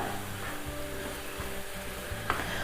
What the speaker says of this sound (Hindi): तो अब हम इसे मिक्स कर लेंगे घी डालने के बाद